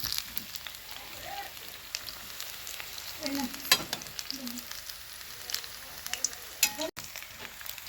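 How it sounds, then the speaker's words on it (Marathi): Bhaji fritters deep-frying in hot oil while a slotted spoon stirs them, giving a continuous bubbling sizzle with scattered clinks and scrapes of metal against the pan. "बघा हलवून घेऊया झाऱ्याने हलवून आपण चांगलं तळून घेऊया भाजी"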